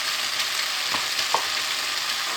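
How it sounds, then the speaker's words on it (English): Onions hiss and sizzle in a hot pan for a Chinese chicken and mushroom curry, a steady, loud frying noise broken by a couple of soft stirring knocks, with no talking. "Now I'm going to add the rest of the remainder of the onions"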